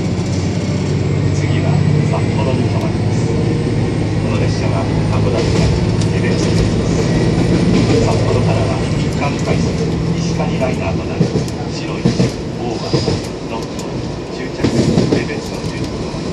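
Steady rumble of a subway train in motion near Sapporo, with rhythmic rail clatter, heard from inside the car; faint voices murmur underneath.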